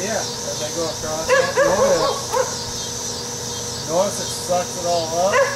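Neighbourhood dogs bark and yip in short bursts in the background of a backyard pool while someone talks over them and a steady mechanical hum runs underneath.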